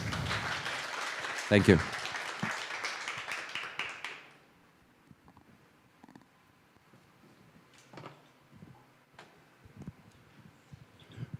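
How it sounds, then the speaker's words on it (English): Conference audience at a blockchain and cleantech event gives a few seconds of full, close applause that cuts off abruptly. A speaker offers thanks before the room falls to faint shuffling. "Once again, big applause."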